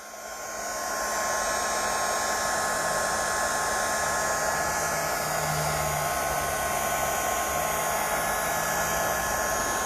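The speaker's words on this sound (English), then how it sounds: "they can't hear you over my heat tool anyway" A heat tool blows hot air over a paper craft project, a loud, steady whooshing roar that swells up in the first second and then holds constant, close and alone with no talking.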